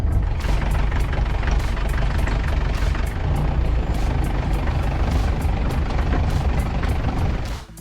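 A safari jeep drives into the forest of a wildlife sanctuary, its engine a steady, loud, close rumble with rattling and knocking throughout, the noise cutting off at the very end.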